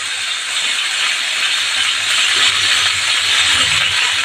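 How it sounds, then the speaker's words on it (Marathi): Ginger paste hitting hot oil gives a loud, steady sizzle with a dense hiss that holds evenly for the whole stretch, with no voices. "आता आपल्याला तयार करायचं आपल्याला सगळं आता करायला पण अद्रकची पेस्ट टाकायची तेलामध्ये पहिली"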